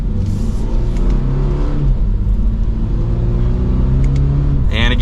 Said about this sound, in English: that's just a mild acceleration, and we're getting up